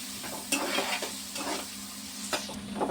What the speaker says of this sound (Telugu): ఇలా ఉల్లిపాయలు పచ్చిమిరకాయలు బాగా యాగాలండి